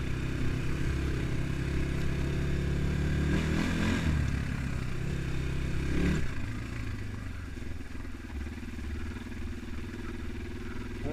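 Progasi Gaudi 300 motorcycle riding off-road on slippery ground, its engine droning loudly and close, then easing to a lower, quieter idle-like pull after a brief surge.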